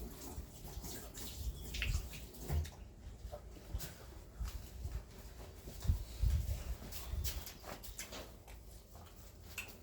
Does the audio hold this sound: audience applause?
no